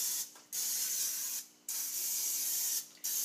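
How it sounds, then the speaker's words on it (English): Three bursts of olive oil cooking spray hiss from an aerosol can onto a pan, each lasting about a second with short pauses between, close and fairly quiet. "spray your pan or casserole dish with olive oil spray"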